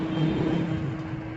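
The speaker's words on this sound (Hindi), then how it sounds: "ये रही इंजन की आवाज़," A 2019 Ford Figo petrol engine running at a steady idle, a low even hum with a faint rumble, fairly quiet and continuous with no other sounds.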